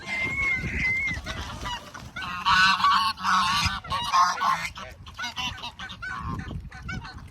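Several mixed-breed and Chinese geese honk loudly and repeatedly nearby, overlapping calls in bursts with short pauses between them.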